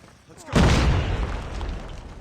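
A shotgun fires in a video game clan match, one loud, close blast just after the start that rolls off into a long, rumbling decay.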